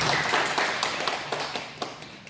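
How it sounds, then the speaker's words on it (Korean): Applause from a congregation in a church service rings out at close range, a dense burst of clapping that thins into scattered claps and fades out. "우리 다 같이 박수 한번 합시다"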